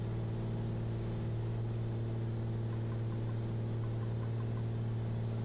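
A Black Square Commander 114 light aircraft engine runs steadily in Microsoft Flight Simulator 2024, a loud constant droning hum with strong even tones and no breaks while flying through cloud.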